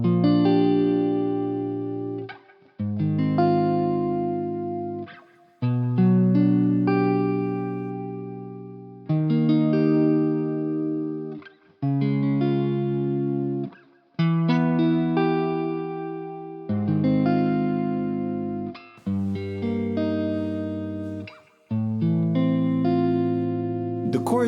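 Chord motif played in three variations, repeated sustained chords on a processed, effect-laden keyboard or guitar, each phrase ending in a brief pause before the next, with no talking.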